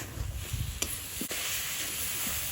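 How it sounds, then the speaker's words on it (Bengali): Curry being stirred in a pan after chili paste is added, a soft low sizzle running throughout with a couple of brief scraping knocks from the spoon, close and steady with no talk. "মরিচ বাটাটা দিয়ে দেবো, দিয়ে তারপর নাড়বো।"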